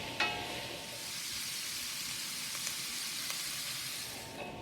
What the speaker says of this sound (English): So the carrots and the onions have been sauteing in the bacon fat